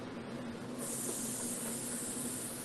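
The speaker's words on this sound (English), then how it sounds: "Hear that sizzle? That's what we want." Onions start sizzling in a hot pan, a steady bright hiss that swells in and keeps going, fairly quiet and close.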